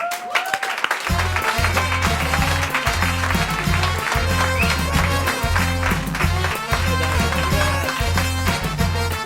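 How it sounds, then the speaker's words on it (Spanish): A TV show audience claps and cheers continuously over a loud, steady musical beat, the applause dense and sustained throughout. "Un aplauso."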